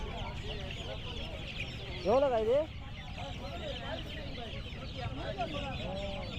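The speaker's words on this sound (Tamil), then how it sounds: "இங்கே பாருங்க, நான் கோழி குஞ்சு பார்க்குறேன்." Chickens and chicks at a busy pet market in Pallavaram, Chennai, cluck and peep steadily, with one loud, close call rising above the rest, while people talk nearby.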